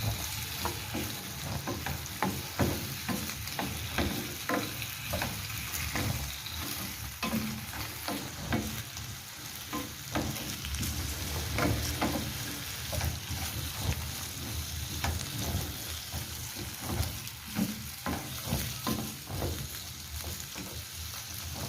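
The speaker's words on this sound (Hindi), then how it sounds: "इसको मैं ऑयल में फ्राई करूँगी।" Two to three sliced potatoes frying in hot oil in a pan, a continuous bubbling sizzle with occasional scraping stirs and soft clatter, steady and close, with no talking.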